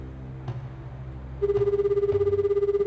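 An old telephone rings in the Shenmue video game, a steady pulsing electronic ring that starts partway through and repeats rapidly and loudly to the end, following a quieter stretch of background game sound.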